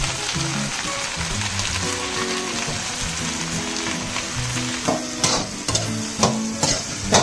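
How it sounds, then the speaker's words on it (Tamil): Brinjal pieces sautéing with softened onion in oil for katharikai thokku, a steady close sizzle with stirring scrapes and occasional louder clatter toward the end, no voices. "கத்திரிக்காயும் நல்லா அந்த எண்ணெயில் கொஞ்சம் வேகணும்"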